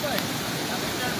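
Fast-flowing floodwater from heavy monsoon rain in Mandvi, Gujarat: a dense, unbroken roar of rushing water that stays loud and even throughout.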